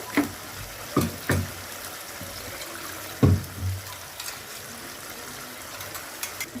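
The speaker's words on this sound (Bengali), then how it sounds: "আমি এটা একটু জল দিয়ে ধুয়ে নেব।" Water splashes in a few short, faint bursts as food is rinsed in a kitchen while egg curry is being made, spaced irregularly over quiet background noise, with no speech.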